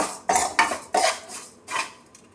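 Metal utensil scraping and clinking against a pan while roasting thin vermicelli for semiya upma, a few distinct close strikes and stirs at an uneven rhythm, with no talking.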